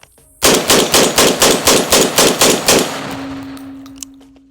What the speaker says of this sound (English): So here's me mag dumping into a plate.